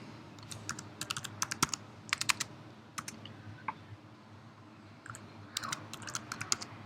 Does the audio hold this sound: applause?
no